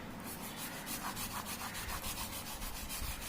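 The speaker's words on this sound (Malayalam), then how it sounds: "ഇനി നമുക്ക് ഇതൊരു തുണി വെച്ച് തുടച്ചു കൊടുക്കാം." A cloth is wiped back and forth across a wall to remove pencil marks. The rubbing comes as quick, steady, soft strokes, close and quiet, with no talking.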